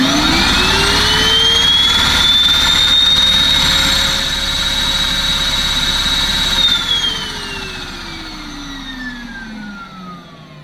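A Numatic NBV240 cordless vacuum cleaner runs on high power with a loud steady whine that rises to pitch, holds for several seconds, then winds down and fades.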